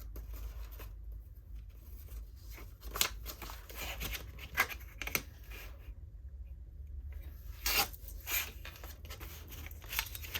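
Scissors snip through cardboard packaging being trimmed down for a handmade mini notebook, a series of sharp, close cuts spaced irregularly over a quiet room hum with no talking.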